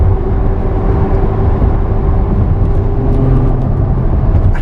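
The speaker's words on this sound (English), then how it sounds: "We're gonna downshift it, okay, upshift it." Ferrari F12 Berlinetta V12 engine droning loud and steady from inside the cabin, a continuous low rumble with slight shifts in pitch as the paddle shifters change gears, no talk over it.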